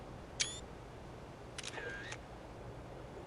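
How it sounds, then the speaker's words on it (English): Camera shutter from a truck driving game firing a photo, a short bright click followed about a second later by a longer mechanical snap-and-whir, heard alone over faint background hiss. "Take a picture of that just to share it on the Discord with the other guys in the group"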